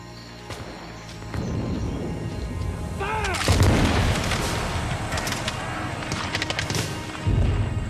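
Musket volleys crack out as a British regiment clashes with the vanguard of Washington's army emerging from woods, several sharp bursts over a loud, dense battle din with rumbling booms and continuous background noise.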